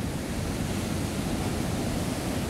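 Ocean waves at the Ocean City, Maryland Inlet roll in a dense, continuous roar of surf, loud and steady throughout with some wind, no voices.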